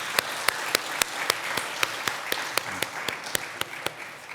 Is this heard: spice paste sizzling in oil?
no